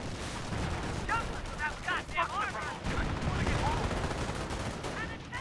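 Gunfire rattles in the video game Company of Heroes, with dense overlapping shots and bursts sustained throughout, while voices call out over the din.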